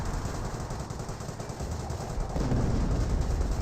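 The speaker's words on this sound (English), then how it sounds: "he's going to maintain that barrage" Sustained British 25-pounder Royal Artillery barrage in Company of Heroes, heard as a dense, continuous rumble of distant blasts that swells louder in its final second and a half, with no voices.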